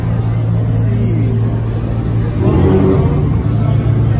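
Nissan Skyline R32 engine revving at a drag strip, a loud, steady mid-range engine drone that swells as revs climb near the end, with crowd noise and voices in the background.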